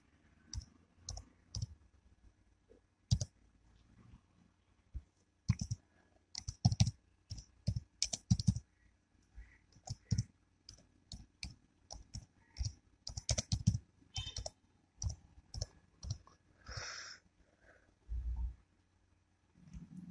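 Keys clacking on a computer keyboard while typing answers in an online ICDL internet-basics practice exam, heard up close as irregular bursts of quick clicks with short pauses between them and no talking.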